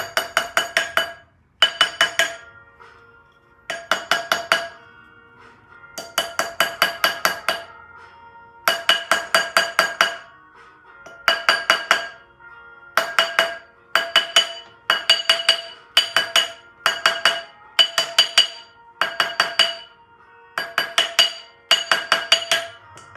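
A soldered ring is hammered straight on a tapered metal mandrel in bursts of rapid, ringing metallic taps, each volley of about a dozen strikes separated by short pauses, loud and close with no talking.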